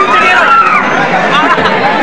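A crowd of pilgrims queuing at Balaji temple, a close, steady murmur of many voices and shuffling movement with no single voice standing out.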